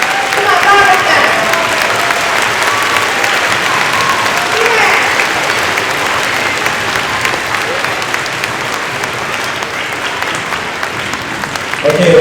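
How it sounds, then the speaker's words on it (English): A large crowd at a school district event applauds loudly and continuously, a dense roar of clapping that holds steady throughout, with a few voices faintly mixed in. "Please give yourselves an enormous round of applause, because you were amazing."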